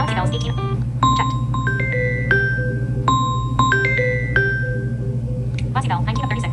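Samsung phone ringtone called Galaxy Bells, a bright sequence of chiming bell tones over a steady low hum, with a synthetic voice talking over it.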